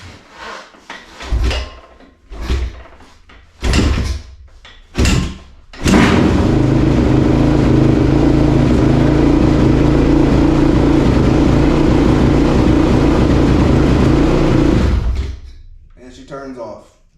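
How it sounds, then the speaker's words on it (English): A cold Honda TRX450R quad, choked, takes several sharp kicks before catching, then its engine runs loud and close for about ten seconds with a little throttle before shutting off, with someone talking around the kicks. "Bike's cold. We'll see if she can start. Might take a couple kicks."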